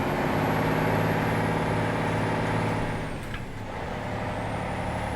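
Truck driving past in a bus simulator game set on a Turkish road between Edirne and Kırklareli, a steady loud engine drone with a sharp air brake hiss partway through, then a lower rumble.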